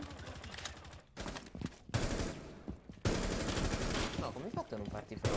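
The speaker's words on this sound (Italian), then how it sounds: "stavi sparando al muro" Video game gunfire sprays at a wall in loud, close bursts of rapid shots, broken by short pauses between volleys.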